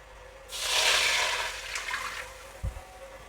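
Water pours into a vessel of semolina (rava) in one soft, rushing stream lasting about a second and then tapering off, followed by a small knock. It is fairly quiet and close, with no talking.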